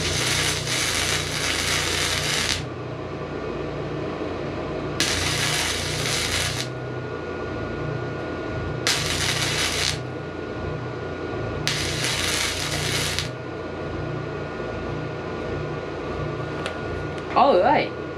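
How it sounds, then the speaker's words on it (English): A YesWelder Flux 135 Mini flux-core welder burns through thick steel in four steady crackling, hissing bursts of a few seconds each, separated by quieter gaps with a low background hum, close and loud. "We're burning through some quite thick steel."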